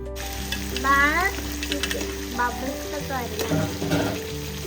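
Chicken curry bubbling and sizzling steadily in a pot, with a few squeaky chirping tones and faint clinks layered over the continuous cooking noise; no one speaks.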